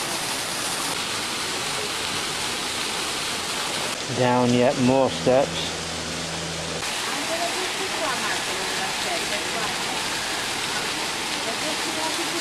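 Steady rushing, splashing water fills the whole clip, with a person briefly speaking over it partway through.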